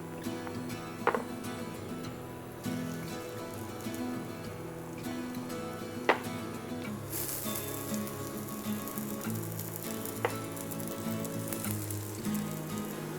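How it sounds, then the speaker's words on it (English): Patties shallow frying in a little oil in a pan give a steady, soft sizzle with faint crackles and a few sharp clinks, continuous and fairly quiet throughout. "And now let's shallow fry these patties."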